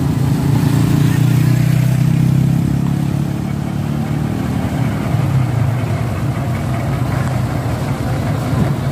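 A truck engine runs at a steady, loud low rumble throughout, with a slight rise in roar in the first few seconds before settling into an even idle.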